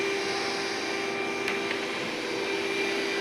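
A household vacuum cleaner runs steadily indoors during spring cleaning, a constant loud motor whine with a steady tonal hum and a couple of faint knocks, no voices heard.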